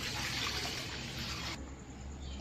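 One litre of milk being poured into a wide pan in a home kitchen, a steady close liquid splash and stream for about a second and a half, then a quieter fading trickle, no talking.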